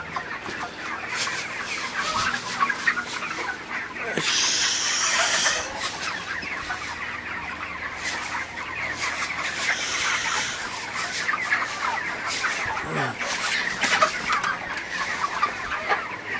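Broiler chickens on a poultry farm cluck and chatter in a dense, continuous flock murmur, with several louder individual squawks rising above the crowd noise.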